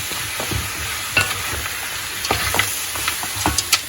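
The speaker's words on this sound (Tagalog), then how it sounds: "Tuloy-tuloy na yan na paghalo." Goat adobo in a dark soy-based sauce is stirred in a hot pan, sizzling and frying steadily while a spoon scrapes and clacks against the pan in irregular strokes.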